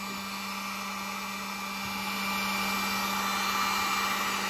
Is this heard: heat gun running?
yes